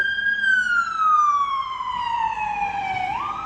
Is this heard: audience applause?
no